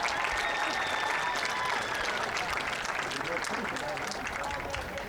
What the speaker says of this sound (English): Let's give it a round of applause for Callie and Brooks.